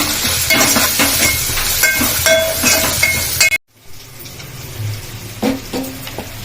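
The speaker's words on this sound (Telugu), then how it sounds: "పచ్చిమిర్చి కరివేపాకు ఉల్లిపాయ అల్లం వెల్లుల్లి పేస్ట్ సిమ్లో అయితే వేయించుకోవాలి" Green chillies, curry leaves, onion and ginger-garlic paste frying in a pan on low heat: a loud continuous sizzle with repeated clinks and scrapes of stirring, a sudden brief cut, then quieter sizzling with a few more stirring clatters.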